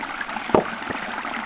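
Creek water runs over rocky cascades in a steady, soft rushing wash, with a brief louder splash partway through, heard alone outdoors.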